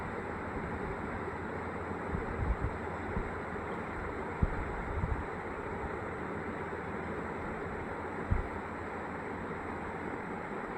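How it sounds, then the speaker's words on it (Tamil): Steady rushing, bubbling roar of water boiling in a covered pot for wheat rava upma, with a few soft low thumps and no voices. "இப்போ பாருங்கள், நல்லா தண்ணி கொதிக்குது."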